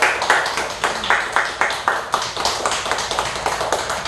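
A church congregation claps during a Korean Sunday daytime worship service: crisp, close hand claps that fall in a steady rhythm, gradually quicken and then settle into a dense patter.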